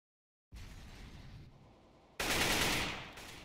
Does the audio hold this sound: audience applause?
no